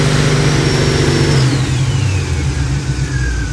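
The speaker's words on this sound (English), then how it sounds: "I'm checking it at idle, and I'm checking it at high throttle." 1977 Monte Carlo engine held at high throttle, a loud steady roar with a whining tone that drops partway through, close up and with no talk over it.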